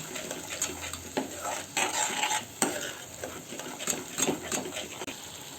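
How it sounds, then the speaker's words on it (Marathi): Aloo matar korma masala frying in oil and being stirred in a pan, a close, continuous sizzle broken by repeated scraping and clinking strokes of the spoon against the pan, with no talking. "पाच सहा मिनटं ढवळून घ्या हे चांगलं ह्याला तेल सुटेपर्यंत ढवळून घ्या"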